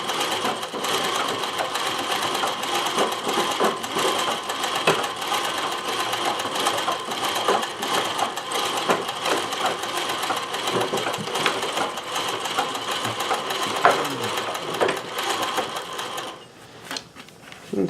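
A Consew CN2053R-1A industrial sewing machine, fitted in a domestic treadle table, stitches a zigzag pyramid pattern in right needle position with a steady, close, continuous whirring hum that runs nearly the whole time and then briefly slows near the end.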